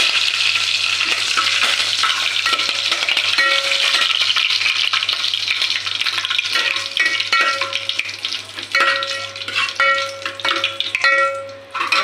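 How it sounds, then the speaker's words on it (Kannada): Cumin and dried chili frying in oil, a continuous close sizzle with a spoon stirring and tapping the pan, a low hum underneath and no voices. "ಜೀರಿಗೆ ಸ್ವಲ್ಪ ಕರಿಬೇಕು ಮತ್ತು ಒಣ ಮೆಣಸಿನ್ಕಾಯಿ ಹಾಕಿದ್ದೀನಿ"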